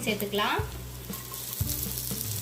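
Onions sizzling and crackling in hot oil, with a couple of stirring scrapes and a brief spoken word, while cooking chicken polichathu.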